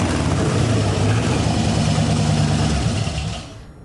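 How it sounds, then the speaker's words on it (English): A monster engine built from scrap parts runs with a loud, throaty, dense roar close by, holding steady before dropping away near the end. "they've created a monster engine from the parts of others."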